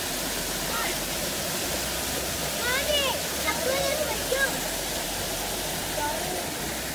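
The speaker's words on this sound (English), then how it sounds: "little saddle inside a mountain and then there's a waterfall from it" A waterfall pours steadily in El Yunque rain forest, Puerto Rico, a constant, close, full rushing roar of falling water with faint voices beneath it.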